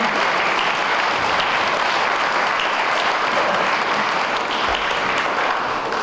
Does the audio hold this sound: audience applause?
yes